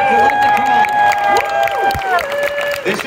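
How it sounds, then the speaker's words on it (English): A convention crowd cheers and claps loudly, with whoops and shouts over a continuous wash of applause, a lively indoor audience reaction. "Let's give a round of applause to"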